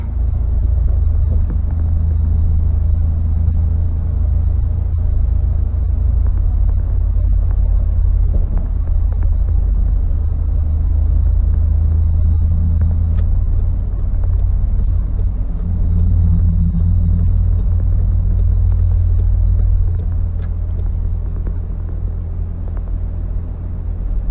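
A car on a highway on-ramp gives a continuous loud, low road rumble and engine drone that builds slightly over about twenty-four seconds, with no voices.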